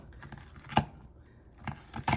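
Scissors snipping through kimchi in a few separate cuts, close up, with small crinkly handling noises between them.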